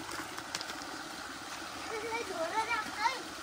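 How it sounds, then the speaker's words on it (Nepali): Water poured and splashing over a motorbike as it is washed during Vishwakarma Puja, a soft, close gurgling trickle that swells slightly near the end, with a voice briefly audible. "पानी हाल्दै पखाल्दै गर त एकछिन"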